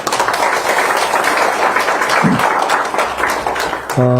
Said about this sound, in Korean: 두 분께 먼저 박수 한번 좀 부탁드릴까요?